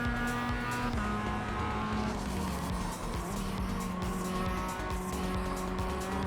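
Race car engine in the iRacing sim racing game, loud and steady with harmonic whine, tires squealing at moments while closely following another car through a corner exit and down a straight.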